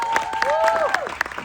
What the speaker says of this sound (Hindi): एक बार जोरदार तालियां वरुण के लिए।